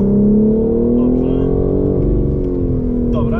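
A BMW engine revving hard while racing on a tight course, a loud sustained drone that climbs in pitch as the throttle opens, heard from inside the car with a voice speaking over it.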